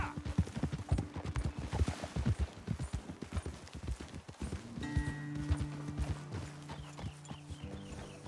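Rhythmic clip-clop of horse hooves in Red Dead Redemption 2, brisk and close at first, then slowing as a tonal hum rises beneath.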